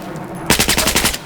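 Rapid automatic gunfire in a video game shooting at dirt, a loud close burst of about ten quick shots that starts abruptly and rattles on to the end.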